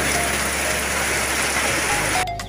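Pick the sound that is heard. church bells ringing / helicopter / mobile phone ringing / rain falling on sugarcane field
rain falling on sugarcane field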